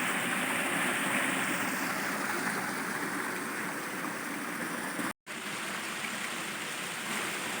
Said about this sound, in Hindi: ये देखो कितना सोहना झरना बह रहा